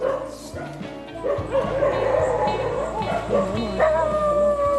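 Many dogs at a tribal settlement in the Idukki forest bark, yip and howl together in a dense, continuous chorus, close and loud throughout.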